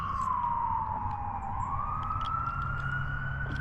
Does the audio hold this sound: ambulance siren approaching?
yes